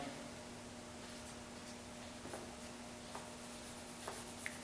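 Pen or pencil writing a judging score down by hand on paper at a Dragon Challenge martial arts competition, soft scratchy strokes and faint taps close by over a steady background hum.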